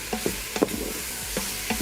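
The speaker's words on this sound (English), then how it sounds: "I'm just gonna mix around." Garlic being stirred in hot oil in an Instant Pot: a soft sizzle with a few sharp scraping taps of a utensil against the pot, quiet and close.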